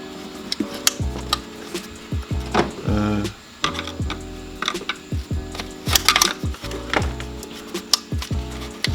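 An intake tube on a Supra being pulled loose by hand, giving a close, busy run of plastic creaks, rubbery squeaks, knocks and clicks in irregular bursts.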